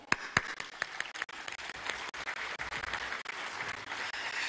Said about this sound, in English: Please join me on behalf of the Parliament of Pakistan in putting our hands together and applauding the presence of all.